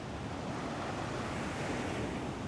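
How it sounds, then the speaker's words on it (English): Ocean waves and surf roll in steadily just off a balcony at Laguna Beach, a continuous broadband wash of breaking water with a touch of wind, close and fairly loud with no voices. "and then the ocean is right there."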